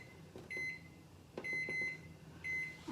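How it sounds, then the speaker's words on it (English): Electronic kitchen timer set for five minutes while baklava syrup boils on the stove, giving three separate bursts of high repeated beeps over a quiet room background. "I'm gonna set my timer for 5 minutes."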